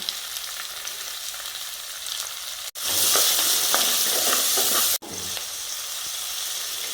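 Onion sautéing in a pan for a Kerala fish mappas, added after crushed ginger and garlic: a steady, close sizzle and frying hiss throughout, briefly louder and brighter in the middle as the onions go in, with no talking.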